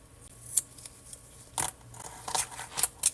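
Scissors snipping nail art pieces into small cubes, a series of sharp close clips spaced irregularly, some in quick pairs, with no talking.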